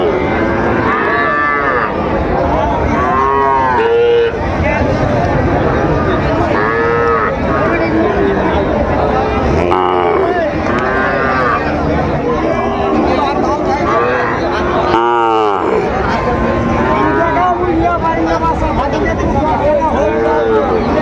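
Cattle at a busy livestock market where small bulls and heifer calves are being sold moo repeatedly, loud and close, with several calls overlapping across a steady background of crowd babble and chatter.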